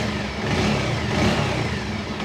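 Freshly assembled motorcycle engine revving steadily, a loud continuous mid-pitched roar with slight swells in throttle and no voices.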